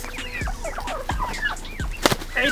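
Turkeys on a mixed farm, heavy birds clucking and gobbling in overlapping, close calls with a noisy flock chatter throughout and a sharper burst near the end.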